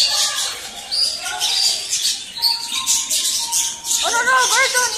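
Birds chirp and call at SeaQuest interactive aquarium in Las Vegas, with rising warbling calls near the end over steady crowd chatter and nearby voices.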